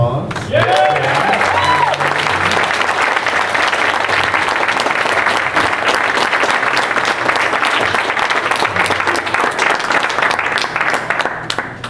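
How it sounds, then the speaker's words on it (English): Loud, sustained audience applause and cheering fill a Nightmare on Elm Street fan panel, dense clapping from a large crowd holding steady from start to finish. "Let's give another round of applause."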